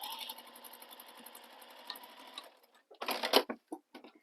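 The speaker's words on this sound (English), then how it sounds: "now we're going to take it and we're going to sew this using that seam allowance that's given in the pattern" A sewing machine stitches a seam on a fabric stocking, running steadily with a fast, even mechanical chatter for a couple of seconds, then stopping; a few louder clunks and rustles of handling follow, close and fairly quiet.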